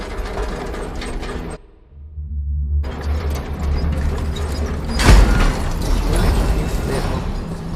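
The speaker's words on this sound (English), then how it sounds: "Guess I'm taking the elevator." Mechanical elevator ride in Batman: Arkham Shadow, a steady low rumbling hum with clanking machinery, a brief drop-out near the start and a loud jolting thud partway through, with game ambience throughout.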